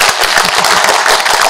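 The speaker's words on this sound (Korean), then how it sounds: "이때 박수 한번 주셔도 좋습니다." A lecture audience bursts into dense, loud applause, many hands clapping rapidly in a steady, continuous roar with no talking over it.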